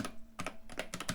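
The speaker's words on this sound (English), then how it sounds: "it's so much better to be using a decent keyboard" Keys on a ZX Spectrum Plus 2 home computer keyboard are struck in a quick, uneven run of about half a dozen clicky presses, close and moderately quiet.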